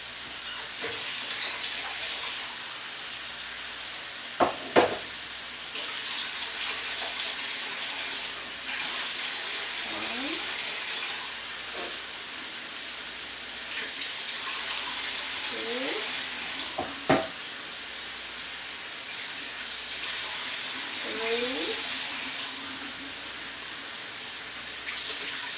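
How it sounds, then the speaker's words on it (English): Water pouring steadily into a cooking pot for rice, a continuous broad rushing hiss with a few sharp clinks and short low murmurs across the pour. "So I add twice the amount of water."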